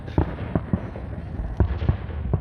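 Fireworks explode at a crowded Toronto Victoria Day celebration, a run of deep, booming bursts at irregular intervals with low rumble between them, heard from close by.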